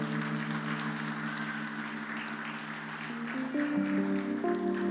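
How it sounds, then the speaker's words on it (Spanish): A church congregation applauds during a sermon, a steady wash of clapping running under sustained keyboard chords that shift and grow louder near the end. "Dele un aplauso al Señor, su palabra."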